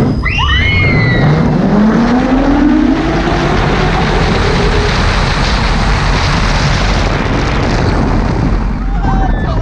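A Ferrari Land roller coaster car in Catalonia, Spain, mimics a Formula 1 engine, a loud rising engine roar that sweeps up in pitch and then holds as a powerful sustained rush, with screaming riders early on.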